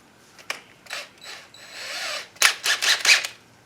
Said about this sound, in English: So you just put this on the end of your drill,